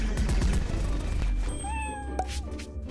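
Cat meowing in Poppy Playtime Chapter 3, a couple of drawn-out rising meows near the end over a busy game soundtrack with thumping low rumble, fairly quiet overall.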